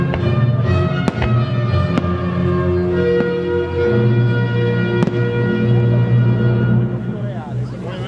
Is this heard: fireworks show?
yes